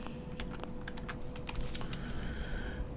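Computer keyboard typing during Fallout London play on keyboard and mouse, a steady run of light clicking keystrokes over a constant low background hum, close and fairly quiet throughout.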